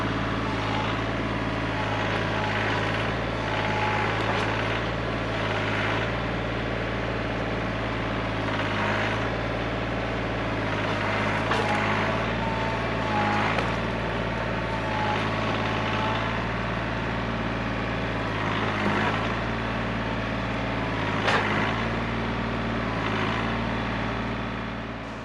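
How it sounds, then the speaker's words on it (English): A tractor climbs a hill on a wooded lot where white birch is being cut for firewood, its low engine drone steady and loud from start to finish with no talk over it. "I'm gonna have to go get the tractor and pull the stump around"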